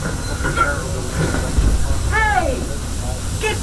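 A Walt Disney World steam train hisses continuously up close, a broad steady rush of steam with faint rail rumble beneath, while voices talk and a whistle-like tonal sweep rises over it.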